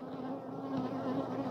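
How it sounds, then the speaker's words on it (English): Honey bees buzz densely around a hive box, a close, continuous droning swarm with a steady pitch. "we've got a lot of bees over here"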